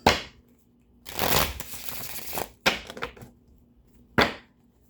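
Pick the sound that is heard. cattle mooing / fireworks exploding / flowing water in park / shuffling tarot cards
shuffling tarot cards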